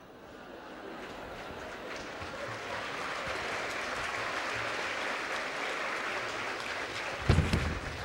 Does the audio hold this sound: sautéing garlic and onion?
no